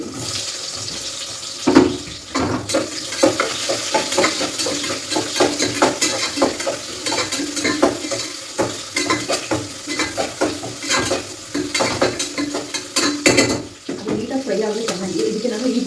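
Chopped onion frying in oil in a pan, stirred with a spoon in dense clattering scrapes over a steady sizzle, with a voice briefly audible near the end.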